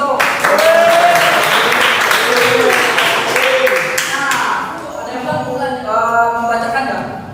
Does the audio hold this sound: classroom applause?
yes